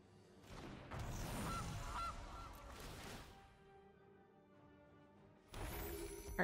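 A goose honks repeatedly in the card game MTG Arena, a few loud nasal calls in a cluster, a pause, then another burst of honking near the end, with no talk over it.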